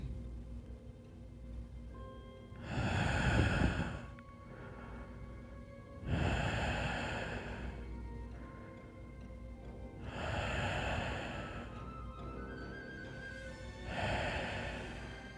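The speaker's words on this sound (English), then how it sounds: "I hear the heavy breathing." Slow, heavy breaths rise and fall about four times, each a long rough exhale, close and alone against a quiet background.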